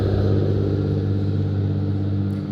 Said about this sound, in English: let that car pass.